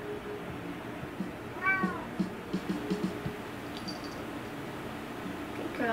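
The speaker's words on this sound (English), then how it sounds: "Why are you always meowing at me?" A pet cat meows a few times at close range in a quiet indoor room, short rising calls with soft rustling around them and no talk.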